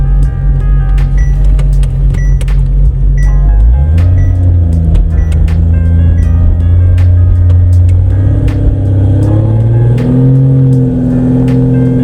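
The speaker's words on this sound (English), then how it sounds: "let's just do a full pull with the dyno tack hooked up and just see what it looks like" Car engine from a no-prep drag build, boosted to around 28 psi, making a full pull on a dyno: a loud, steady droning roar climbing through the gears with rising pitch, close and continuous with no talk.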